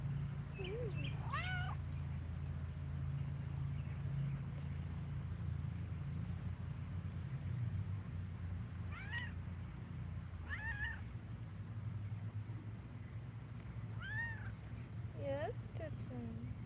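Outdoors, a kitten gives scattered high-pitched meows, some in quick pairs, spread across a long stretch with quiet gaps, set against a continuous low rumbling hum.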